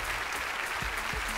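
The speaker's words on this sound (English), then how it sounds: "Give her a round of applause." An audience at a magic show applauds, a dense wash of clapping hands that holds steady and fairly loud for the whole short stretch, with no talking over it.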